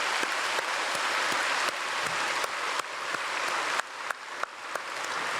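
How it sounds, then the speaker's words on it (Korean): A church congregation at a Sunday worship service claps together in steady, dense applause that dips and swells in several waves, with no voices standing out. "박수로 축복하겠습니다."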